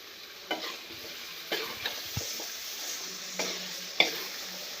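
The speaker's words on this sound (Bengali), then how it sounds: "দেখো পুরো মিক্স করছে নুন দিয়ে পুরা মিক্স করছে" Cauliflower curry with salt being stirred and fried in a pan: steady frying hiss with a series of distinct scraping stir strokes spaced through the clip, close and moderately loud, no talking.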